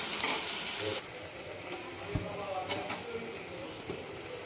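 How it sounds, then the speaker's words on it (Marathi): Spicy village-style mutton gravy bubbles and sizzles in a pot over low heat, starting with a loud hiss that settles into a steadier simmer with occasional pops and stirs. "छान उकळा आहे आपला हा रस्सा."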